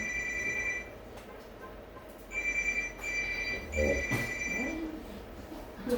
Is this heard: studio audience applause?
no